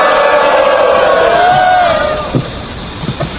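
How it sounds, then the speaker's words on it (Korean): An outdoor rally crowd of older demonstrators gathered outside a broadcaster's building lets out a loud, sustained collective shout of cheering that fades after a couple of seconds into scattered voices and murmurs. "힘내서 함성으로 한번 맞이해 주시면 고맙겠습니다"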